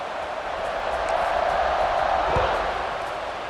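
Football stadium crowd at a USC versus Pitt game before a kickoff: a broad, steady roar with some swelling cheers, heard under an announcer's commentary.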